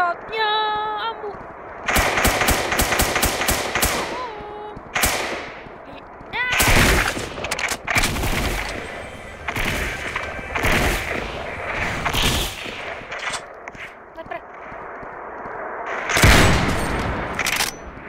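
Gunfire in a Fortnite-style Roblox game: rapid bursts of automatic shots and single heavy blasts crackle loudly, mixed with electronic game sounds and a few short tones.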